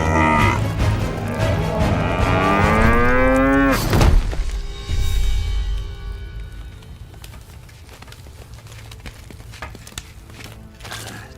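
A toothy cow moos loudly and close, one long wavering bellow that sweeps up and breaks off with a thump, followed by quieter rustling and faint clicks.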